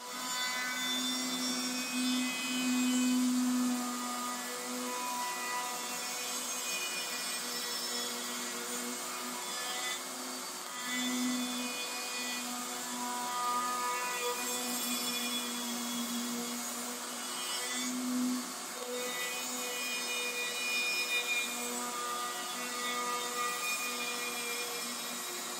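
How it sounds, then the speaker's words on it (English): A router cuts a 1/4 inch roundover along both sides of wooden handles, a continuous high-pitched whining motor with a rasping cutting tone that swells and eases as the bit moves along the edges, loud and close. "I'm going to go ahead and put a 1/4 inch round over all the way around both sides of these handles"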